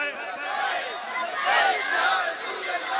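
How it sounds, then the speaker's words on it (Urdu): A crowd of children chants the Labbaik slogan together, a dense blur of many voices rising and falling in a continuous, fairly loud wash. "یہ چھوٹے چھوٹے بچے بھی تمہیں لبیک کے نعرے لگاتے نظر آئیں گے"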